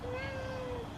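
A single short cat meow, close and clear, rising and then falling over about a second.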